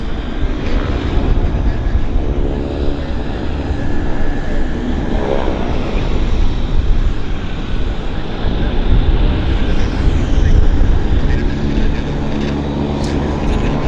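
Airliner jet engines at Vancouver International Airport run steadily with a broad, continuous roar close by as aircraft such as a CRJ and a WestJet 737 taxi, sustained at even loudness throughout.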